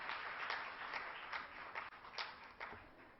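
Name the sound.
audience applause for award winners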